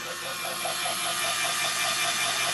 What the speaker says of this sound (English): hopefully you can hear me here, this engine is fairly loud